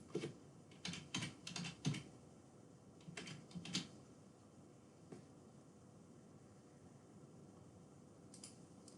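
Fingers tap a computer keyboard to enter a date, a few quick bursts of close, soft keystrokes separated by pauses, with a faint fan-like hiss underneath.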